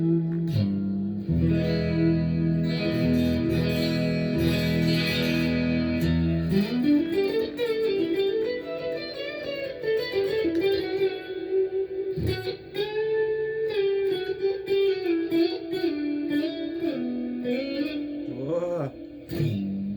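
A prototype headless multiscale electric guitar with 25.5-27 inch scale is played clean on the neck pickup, with chords ringing and then sustained melodic single notes bending through, steady and fairly loud with no talking.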